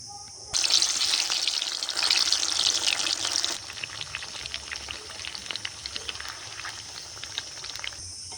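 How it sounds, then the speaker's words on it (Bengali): Parboiled potatoes for chicken biryani fry in hot oil, a dense hiss bursting in loudly at the start and holding for about three seconds. It then eases into a quieter, steady crackle with scattered pops. "এটা এখন আমি তেলের মধ্যে দিয়ে ভেজে নেব"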